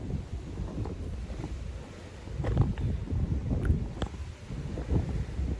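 Low, rumbling wind buffets the microphone steadily, swelling and easing in gusts, with no other clear sounds.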